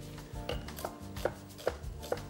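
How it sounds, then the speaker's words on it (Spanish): A knife slicing an onion in half on a cutting board in a home kitchen while cooking braised pork cheeks, heard as a few sharp, close chopping knocks spaced under a low background hum. "le doy un corte por la mitad."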